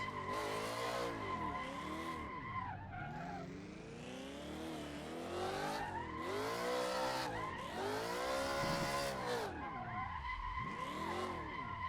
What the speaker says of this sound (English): I actually got my first resemblance of an actual drift